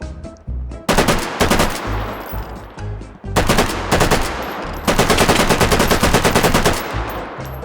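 Rifle-cartridge automatic weapon firing in the virtual reality shooting game H3VR, loud close rapid bursts of gunfire separated by brief pauses, with a long sustained burst at the end.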